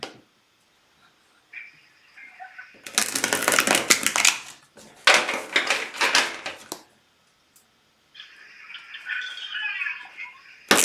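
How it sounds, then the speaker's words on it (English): Tarot cards being shuffled, with two bursts of riffling, crisp paper rustling separated by short pauses, fairly close, with quiet background noise before and after. "I'm gonna shuffle cards for Jania really quick."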